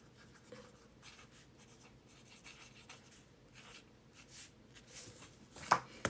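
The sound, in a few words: writing a note by hand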